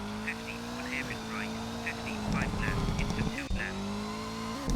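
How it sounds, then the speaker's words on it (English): Motorcycles pass outside with engine drone rising and falling, a nearby revving swell in the middle, heard under a continuous car engine from a Colin McRae Rally 2.0 game and chopped game sound effects. "Yeah, I can hear the motorcycles."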